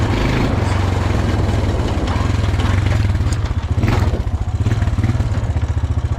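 A Honda Foreman 400 ATV engine runs close by, a loud, steady low thumping putter that rises slightly in revs partway through before settling back.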